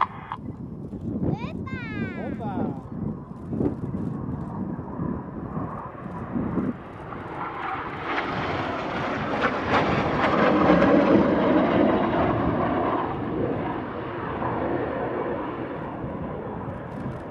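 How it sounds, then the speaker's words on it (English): A Red Arrows BAe Hawk jet rolls through an aerobatic twister manoeuvre at the Luchtmachtdagen air show, its engine roar swelling from a distance to a loud broad rush and then easing, while a commentator talks over it. "With his red smoke on, getting very dizzy now as he rolls around Enid is Red 5, Flight Lieutenant Steve Morris."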